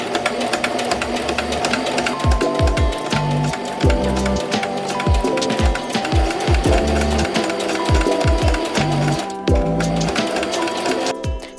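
A sewing machine edge stitches along a dress collar and neckline in steady runs of rapid mechanical chatter, broken by short pauses and stops, close and loud, with no talking.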